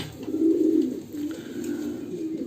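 Fancy pigeons at a farm coo softly and close by in low, throaty murmurs, two or three rolling calls in a row.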